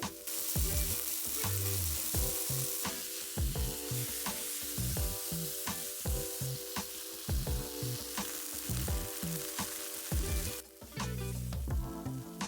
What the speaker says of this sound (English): putting it in a pan on medium high, pressing it down with some parchment paper to get a nice, uniform disc, and cooking it for 1 to 2 minutes on each side